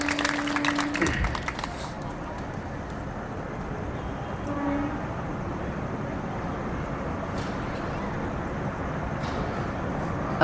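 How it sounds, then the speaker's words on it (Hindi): Dense, sustained applause from an audience at a spiritual discourse (satsang), starting with a louder burst and then holding as a steady, even roar of clapping for about ten seconds, with no speech over it. "आपको धक्का जिसने भी दिया हो उनके लिए जोरदार ताली तो लगाओ जरा से"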